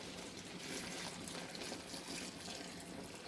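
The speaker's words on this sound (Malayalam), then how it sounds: "ഞാൻ വെള്ളം ചൂടാക്കി ഒഴിക്കുന്നത് കേട്ടോ" Hot water pours steadily into a pot of beef curry, making a soft, continuous gushing splash that is fairly faint and stays constant throughout with no voices.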